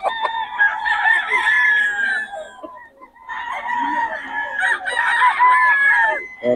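A three-year-old rooster crows loudly and close by, two long drawn-out crows separated by a brief pause.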